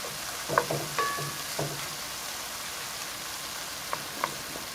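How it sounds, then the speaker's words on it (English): Beef chicharrones frying in a pan over medium heat, giving a soft, steady crackling sizzle with a few faint pops and clinks scattered through it. "While our chicharrones are cooking"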